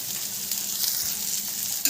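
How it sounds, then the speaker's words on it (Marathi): Ridge gourd pieces with red chili powder sautéing in a hot pan, a steady close sizzle and crackle with faint stirring, no voices. "मस्त असं आता थोडंसं परतून घेणार आहे"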